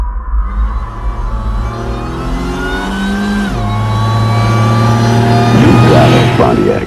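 A Pontiac Fiero with a 3800 engine revs up close and loud, its tone climbing, dropping with a gear change, then rising again to a strained peak.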